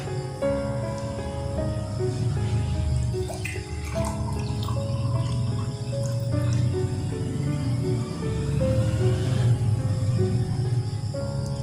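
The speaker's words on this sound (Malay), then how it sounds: "pertama saya isi kat gelas yang pertama ni, gelas yang besar ni" Water poured steadily into a large drinking glass, a continuous close trickle whose tone rises gradually as the glass fills, with no talking.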